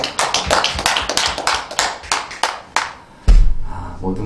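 A church congregation claps together at a year-end Sunday worship service, a steady run of close, crisp handclaps that stops abruptly and gives way to a brief low thump and a murmur.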